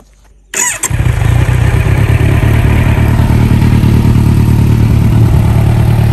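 A 2017 Kawasaki Z900 motorcycle engine cranks briefly, catches and settles into a loud, steady, throbbing idle close by, with no talking over it.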